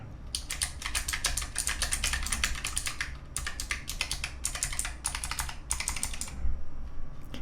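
Fingers type quickly on an experimental optical mechanical keyboard, producing dense bursts of crisp key clicks in an uneven rhythm with a few brief pauses, close up and otherwise alone.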